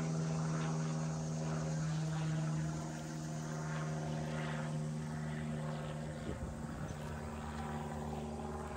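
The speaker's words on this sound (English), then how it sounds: "Airplane!" A droning aircraft engine hums steadily overhead, a low sustained tone with a faint rotor-like throb, loudest at first and easing slightly later.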